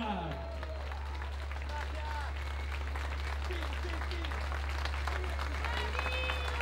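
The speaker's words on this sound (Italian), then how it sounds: "Li sentite gli applausi?" Applause from an outdoor evening show audience crowd, a broad, steady wash of clapping held throughout with crowd voices and whistles mixed in, plus a constant low hum underneath.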